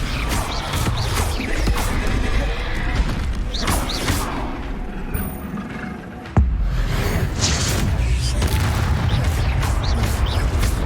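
Rapid spell blasts from Hogwarts Legacy combat, with Confringo, Bombarda and Expelliarmus casts, pound out as a dense, loud wall of booms, crashes and bursts. They run almost without pause, with one sharp thud midway.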